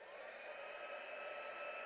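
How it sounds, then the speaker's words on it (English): A hair dryer drying watercolor paint blows steadily with a constant whooshing hum and a high tonal whine, continuous and close, with no pauses. "Now I'm going to completely dry that off with the air dryer with the heat gun"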